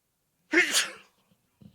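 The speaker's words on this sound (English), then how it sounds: "Sneeze." A single sharp, loud human sneeze bursts out near the microphone, followed by silence and a faint brief sound near the end.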